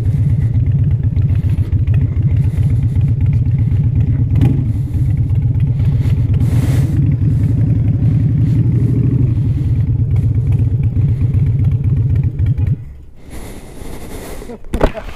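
A Harley-Davidson motorcycle engine rumbles loud and steady while riding, a deep continuous drone for most of the clip that drops away sharply near the end.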